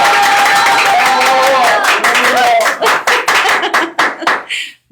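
Strong audience applause welcomes guest Guillermo Tovar onto a talk show, dense and loud for a few seconds, then thinning into scattered claps before stopping, with voices and tonal background sound running underneath early on.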